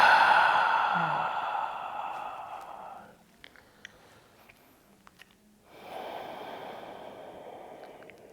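A long, steady exhaled breath during a vinyasa yoga class, soft and close, fading out over about three seconds before a short quiet pause and a second breathy exhale.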